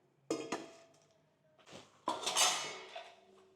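Metal cooking pot from Karaikudi handled indoors, a few close clanks and clinks at irregular intervals, the loudest ringing scrape near the end.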